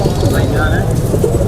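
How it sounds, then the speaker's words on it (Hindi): Soft, low cooing of a golden pigeon rises and falls over a steady noisy background, with faint voices mixed in. "ये गोल्डन कबूतर कैसा परिंदा है?"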